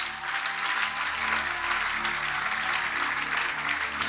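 A church congregation claps loudly and steadily through the whole stretch, a dense continuous wash of applause with voices faintly mixed in.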